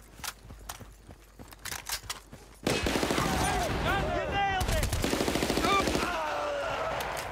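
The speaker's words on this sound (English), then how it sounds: "Where are you shooting me from?" Gunfire in the Battlefield Bad Company video game: scattered sharp shots and footsteps at first, then a loud, sustained burst of rapid automatic fire with whistling ricochets and impacts, continuing to the end.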